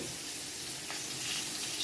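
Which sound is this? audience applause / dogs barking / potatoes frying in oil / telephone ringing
potatoes frying in oil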